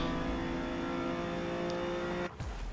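Ferrari Dino race car engine in Forza Motorsport at Indianapolis Sports Car Circuit hums steadily at a sustained pitch, then abruptly drops off and dips as revs fall near the end.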